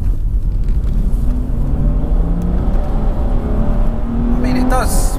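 A tuned 420 BHP BMW M240i with a JB4 tune is put to full power, a loud continuous engine roar rising steadily in pitch, with road and wind noise and some cabin sounds toward the end.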